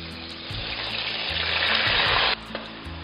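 Onion paste hitting hot oil with browned cumin, giving a loud, steady frying sizzle that grows stronger, then cuts off abruptly near the end, followed by quieter crackle and a soft knock, with no talk.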